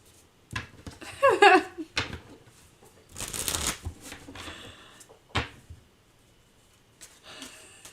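Cards shuffled by hand for a tarot-style reading, a quick burst of riffling near the start followed by scattered handling clicks and soft rustles, close and fairly quiet with a brief breathy sound.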